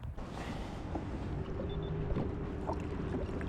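A fishing boat launches on Lake Norman on a very windy morning. A steady low rumble and water noise run throughout at a constant level.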